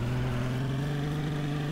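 A car pulling away in the video game DayZ Standalone v0.60, giving a steady, droning engine hum that holds at a constant level throughout.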